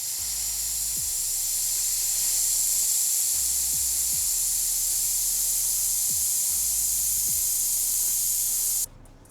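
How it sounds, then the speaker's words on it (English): Air rushes out of the front left tire valve of a Porsche Carrera S with a loud, steady hiss. The hiss runs continuously for about nine seconds, with faint low thumps beneath it, and then cuts off abruptly. "it said I need to release the pressure on the front left valve"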